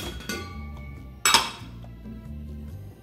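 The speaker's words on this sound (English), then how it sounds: "So now I'm just gonna put my fondue pot on." A fondue pot is set down with one sharp metallic clink, its ceramic-and-metal clatter ringing briefly over a quiet room hum, and a smaller knock comes just before it.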